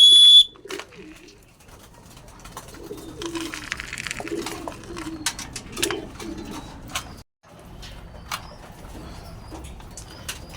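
Pigeons cooing and flapping their wings close by indoors, soft throaty coos mixed with bursts of fluttering and scattered clicks, with no talking.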